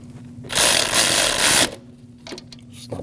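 A ratchet snugs a 10mm bolt on a throttle body bracket of a 2014-2023 Jeep Cherokee during starter replacement, with one loud, close burst of rapid clicking lasting about a second, followed by quieter handling noises.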